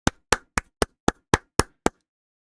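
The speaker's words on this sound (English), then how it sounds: "I clapped, and I just watched as all those claps were audible" Eight sharp hand claps into a microphone as a test, each a crisp close slap with short decay, evenly spaced about a quarter second apart, alone with no talk.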